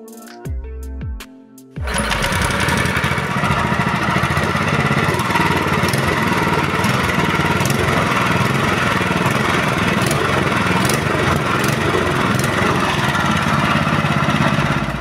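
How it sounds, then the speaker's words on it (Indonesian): A motorcycle engine idles steadily and evenly after a valve clearance adjustment, a continuous close mechanical drone that starts after a couple of seconds of brief clatter and then holds at a constant level throughout. "Dan sekarang suara klepnya lebih halus lagi ya, dan suara mesinnya tidak terlalu berisik seperti sebelumnya."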